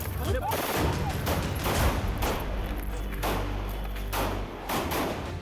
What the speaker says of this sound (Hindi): 10 राउंड फायरिंग और अतीक अशरफ का सरेआम मर्डर